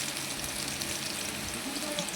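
Potatoes fry with turmeric and salt in a pan, a soft, steady sizzle and faint crackle heard close up and fairly quiet, without speech.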